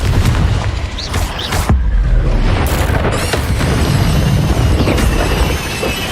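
Confringo blasting spells explode in the video game Hogwarts Legacy, loud dense booms and bursts going off in quick succession over a constant roar of combat noise.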